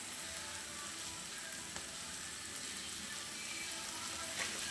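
Onions sauté in a pan for an egg chapati dish, giving a faint, even sizzle with a few small pops throughout.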